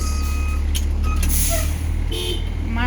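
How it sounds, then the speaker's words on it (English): A school bus backup alarm beeps in a steady repeating pattern over a loud idling diesel engine rumble during a pre-trip inspection, with a brief hiss of air partway through. "alarm sounds."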